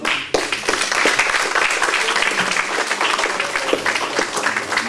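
Audience at an Afro-francophone literary evening applauding Michel Mella, dense hand clapping starting with a sharp onset and continuing steadily, with faint voices mixed in.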